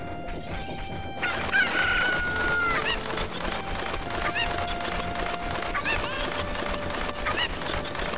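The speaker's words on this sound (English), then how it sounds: "Where's the other chicken?" Cuccos in The Legend of Zelda: Ocarina of Time cluck repeatedly in short bursts, with a crowing call early on, over game background music.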